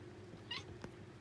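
A house cat gives a short, faint chirping meow while watching a bird outside a window, then a second brief soft sound in an otherwise quiet room.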